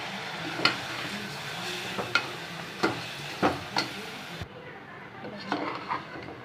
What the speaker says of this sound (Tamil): இஞ்சி பூண்டு போட்டுக்கலாம் மட்டன் போட்டுக்கலாம்